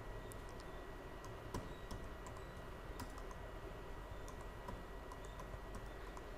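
Steady typing on a computer keyboard while entering Python commands, a continuous run of quick light clicks and key taps at moderate distance, with no voices.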